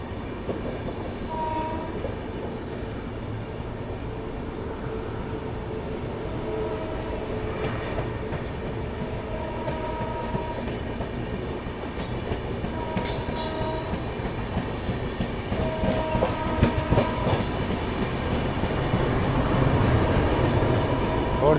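The Bihar Sampark Kranti express runs through Tundla railway station, a loud continuous rumble of wheels and clattering coaches with repeated horn blasts and squealing rails, building in intensity toward the end.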